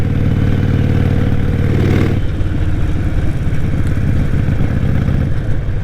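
A Harley-Davidson 5-speed motorcycle is ridden hard in fifth gear, its loud, close engine holding a steady rumbling drone, then shifting to a choppier throb about two seconds in.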